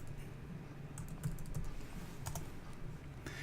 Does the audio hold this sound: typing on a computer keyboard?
yes